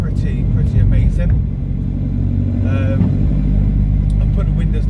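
A car engine runs on a cold morning, with a loud, steady low rumble and a faint rise in revs, while a person talks over it throughout.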